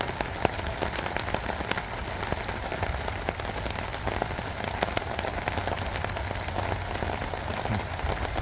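Steady rain patters on a taut tent overhead, a dense, continuous drumming of drops with occasional louder plinks, close and even throughout.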